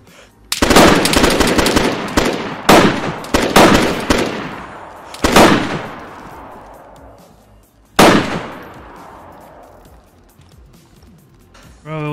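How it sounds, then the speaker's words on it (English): Rifle shots from an SVT in the video game DayZ, loud close cracks fired in an irregular burst of several rounds, then two more spaced shots, each trailing into a long echoing decay. "I shot him with an SVT."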